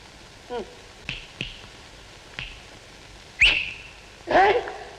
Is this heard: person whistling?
yes